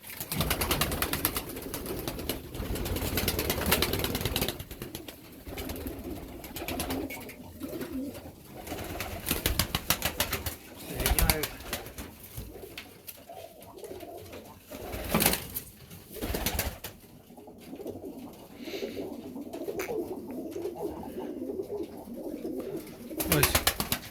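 Marbled breeding pigeons coo softly and repeatedly nearby, low throaty calls in a steady loose rhythm, with a few bursts of wing noise and faint background sounds.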